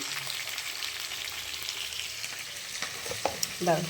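Rice frying in a pan with a steady, close hiss and sizzle and occasional stirring scrapes and clinks, no talking.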